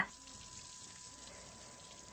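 Pancake batter frying on a gas stove gives a faint, steady sizzle that runs evenly throughout, with no voices.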